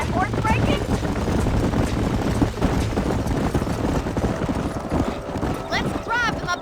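Horses gallop in Red Dead Redemption during a horse-breaking drive toward a canyon, with rapid, continuous hoofbeats close by and brief whinnies near the end.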